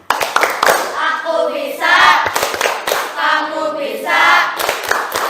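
Classroom group hand clapping in a steady chant-like pattern, loud and close, with bursts of claps repeating in a rhythmic cycle.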